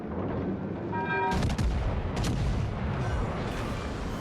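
Heavy battleship main guns from the Japanese battleship Hyūga boom in a naval battle game, a dense roaring barrage with a sharp salvo crack near the middle and sustained rumbling blasts throughout.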